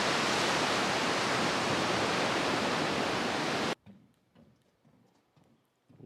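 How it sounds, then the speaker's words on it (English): Molash Creek, on the Ice Age Trail, rushes with a loud, steady hiss of flowing water that cuts off abruptly partway through, leaving faint footsteps and small knocks. "There's good water flowing down there."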